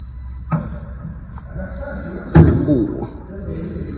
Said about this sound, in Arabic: الباب تاع الكابو ديالها نسبيا ثقيل